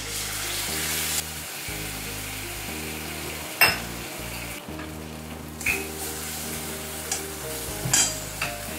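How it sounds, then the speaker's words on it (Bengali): Poppy seed and cashew paste being stirred into a frying pan for a potol dish gives a steady sizzle with repeated scraping stirs and a few louder clanks of utensils. "এবার আমি এই যে পোস্ত আর কাজু বাদাম বাটাটা আছে এটা দিয়ে দিচ্ছি।"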